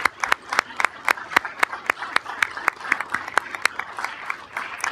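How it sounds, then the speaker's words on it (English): Scattered audience applause at a Norwalk city council meeting, a handful of sharp, distinct claps in a steady quick rhythm that holds for several seconds, moderately loud and clear. "can we give an applause to these people for going out there?"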